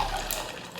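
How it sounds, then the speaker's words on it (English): Coffee pouring over a mason jar full of ice makes a steady splashing, hissing trickle, close and continuous for under a second. "she just pours it over like a whole mason jar full of ice"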